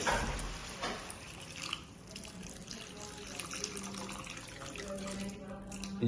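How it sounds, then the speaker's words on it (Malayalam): Water pours steadily into a pan for Maggi noodles with a soft, continuous splashing gurgle, fairly quiet and close, with faint background hum. "വെള്ളം ഒഴിക്കുക"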